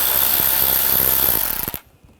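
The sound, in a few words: removing screws with a T20 socket on a Buick Encore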